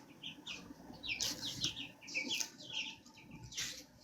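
Chickens chirp and cluck in short bursts nearby, several calls overlapping over a low background rustle, with a cat nearby.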